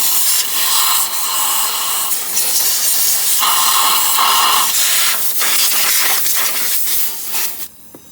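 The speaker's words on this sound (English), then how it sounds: "So we blow out the spark plug well real good." Compressed air blasts out of a nozzle, clearing the spark plug well on a Ford Expedition's 5.4 Triton three-valve V8. The air comes in loud, close hissing bursts with short breaks between them, then stops abruptly.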